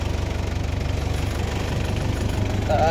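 A plowing machine engine chugs in a field with a steady, rhythmic knocking idle, loud and close, with a brief higher whine near the end.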